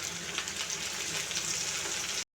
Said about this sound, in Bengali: দেখুন আলুগুলো ভাজা ভাজা হয়ে এসেছে